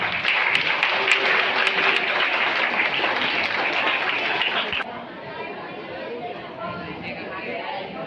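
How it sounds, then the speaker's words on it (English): Audience applause at a school investiture ceremony, a dense steady clapping and chatter from a crowd that drops to a quieter murmur partway through. "Let us clap for that."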